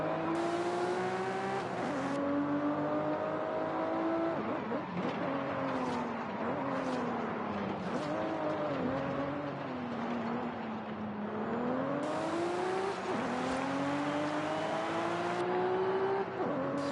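A 1998 Toyota Supra RZ driving in Forza Horizon 5, its engine droning steadily and rising in pitch through repeated gear changes, loud and continuous with no talk.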